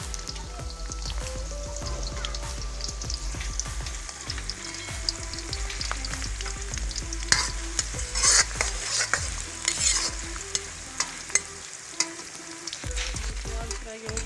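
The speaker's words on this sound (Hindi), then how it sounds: "प्याज फ्राई हो गया" Onions fry in a pan for a curry of chicken liver and bitter gourd, with a dense, steady sizzle broken by repeated scraping and clinking as they are stirred close up.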